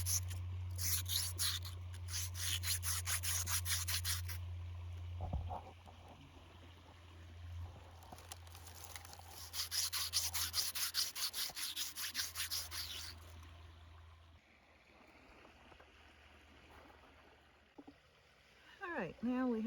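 A foraged pigment rock is washed off outdoors, with two long stretches of close, gritty rubbing and splashing over a low steady hum, then softer handling sounds.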